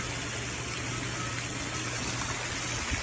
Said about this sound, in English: You enjoying that shower, boy?